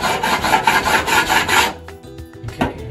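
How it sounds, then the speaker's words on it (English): A knife blade scrapes and scores a wall to cut away old paint before patching a hole, giving a close, loud, rhythmic rasping for under two seconds, followed by lighter scratches and taps. "We're going to cut it a little bit wider. That's to get rid of the old paint again."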